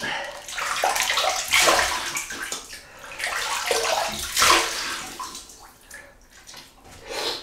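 Tap water runs and splashes as a face is wetted before a wet shave with shaving soap, uneven close splashing and trickling in bursts with short pauses.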